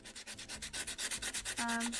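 Rhythmic sanding strokes on a handmade book nook, a steady back-and-forth scraping rub close by, with a brief higher squeak near the end.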